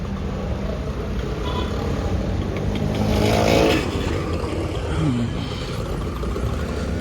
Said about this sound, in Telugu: ఇప్పుడు వెళ్తున్నాయి స్కూల్ బస్సులు